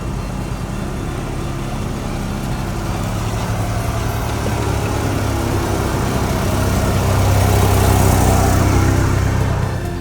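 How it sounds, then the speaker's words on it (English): A 1992 Mitsubishi Mighty Max pickup with a freshly installed donor KM132 transmission drives on a test run, its engine droning steadily from inside the cab and swelling louder as it accelerates, with road rumble and no talking. "We put the shifter back in and we're taking it for a test drive"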